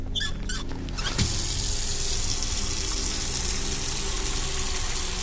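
Water gushes steadily from a tap into a container inside the Autopsy Simulator video game, a continuous broadband rush that starts after a few short splashy bursts and holds at an even, fairly loud level.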